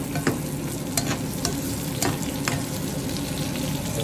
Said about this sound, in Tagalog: Kaya ginisang pakbet.